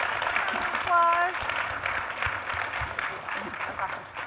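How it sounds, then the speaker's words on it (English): An audience applauds at the ASU Innovation Open 2023, the steady, moderately loud clapping spread through the hall with faint voices and a brief whistle-like tone near the start. "Applause."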